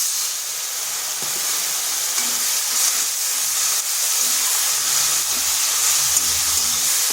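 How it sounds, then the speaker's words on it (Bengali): Spice paste of turmeric, cumin, coriander and chili powder with a splash of water frying in a pan for a raw papaya and red lentil dish, giving a steady close sizzling hiss throughout. "মশলাটা ভালো করে কষিয়ে নিচ্ছি"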